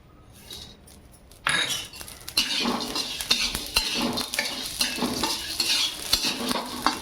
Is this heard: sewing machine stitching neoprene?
no